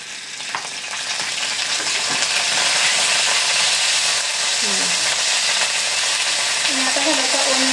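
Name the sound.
frying and stirring ginger garlic paste in a pan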